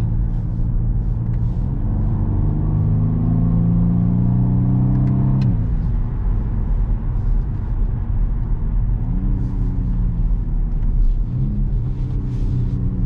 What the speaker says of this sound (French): Ça pétarde un peu à l'échappement. Elle travaille super bien